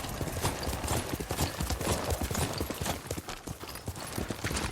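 Horse hooves clip-clop in a steady, fairly quick rhythm on the ground in the Ghost of Tsushima video game, heard up close and moderately loud with no speech.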